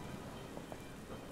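Steady rain hisses across the Wild Area in Pokemon Sword, a soft constant wash of drops at a quiet level with no voices over it.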